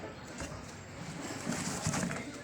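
Soft, low coos of flying pigeons repeat close by against a steady background hiss, with no talking.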